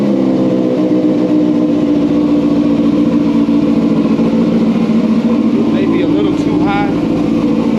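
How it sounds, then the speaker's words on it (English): A Yamaha R6 motorcycle engine idles steadily after a cold start, a continuous loud mechanical hum with a brief higher whine near the end. "now it starts right up like a charm"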